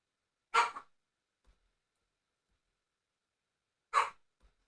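Dogs barking in the game Entropia: two short, sharp barks about three seconds apart, each followed by a faint thud, with silence between them and no talking.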